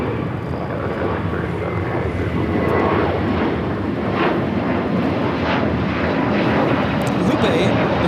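An airliner takes off at LAX bound for Orlando, a loud, sustained jet engine roar that swells and holds across the whole stretch, with voices faintly in the background.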